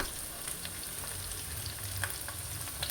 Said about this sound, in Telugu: ఉల్లిపాయ బాగా వేగే వరకు వేయించుకోవాలి